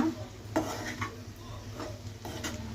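A spoon stirs raw banana fry in a pan, making a few close clinks and scrapes against the metal over a soft, low sizzle.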